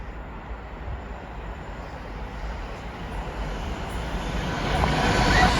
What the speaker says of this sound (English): our first freight train here